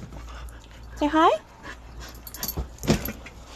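A Shetland sheepdog and mountain feist mix dog gives a high, wavering whimper, then pants and snuffles close by, while a person talks to it in between.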